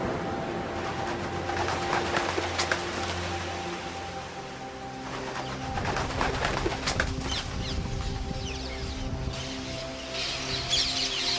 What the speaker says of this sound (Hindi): आकाश में पक्षी जैसे बाज, कौवे, बगुले, लाल स्तनधारी और अन्य पक्षी उड़ने लगे, और उनकी आवाजों से पूरा आकाश भर गया।